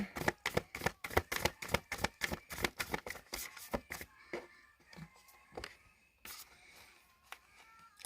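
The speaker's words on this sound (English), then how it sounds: "1 more shuffle." Tarot cards are riffled and shuffled with quick crisp snaps that start as a rapid run and then thin out into a few scattered flicks and taps. The sound is close and clear, with no talking over it.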